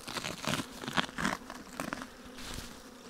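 Honey bees buzz close by while a hive is opened and inspected, their fluttering hum mixed with crinkling, handling noises in short uneven bursts, with no voices.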